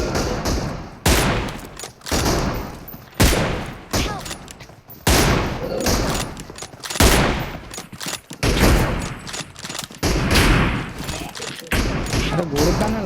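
Video-game gunfire in a 3v2 match comes as repeated loud, close bursts of shots and thuds, while players talk over the shooting.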